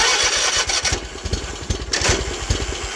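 Zero turn mower engine starting after the solenoid is bypassed, a close, loud mechanical chugging with rapid rhythmic pulses that settles toward a running engine.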